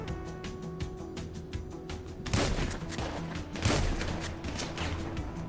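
Pump-action shotgun blasts in GTA 5 survival mode, two heavy booming shots about a second apart over a dense background of rapid game gunfire and tones.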